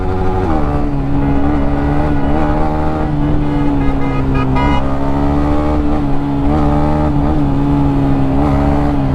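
Engine of a heavily modified Yamaha MT15 motorcycle, a loud steady drone with strong tonal harmonics that rises and wavers slightly as it revs, continuous and close throughout.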